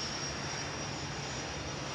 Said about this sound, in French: La Caravelle est donc envoyée en Suède pour des essais de fonctionnement par température polaire.